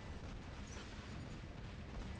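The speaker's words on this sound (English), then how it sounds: "I got him with the explosion." Broad, rumbling blast noise from an explosion in the War Robots mech combat game, sustained and dense throughout with no distinct onset, like continuous battle roar.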